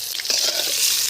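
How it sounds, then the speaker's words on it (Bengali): Potatoes sizzle steadily in hot oil in a village-style kitchen, a continuous close frying hiss with a few soft stirring scrapes and no talk. "তেল গরম হয়ে গেছে, এখন আমি আলুগুলো তুলে দিচ্ছি"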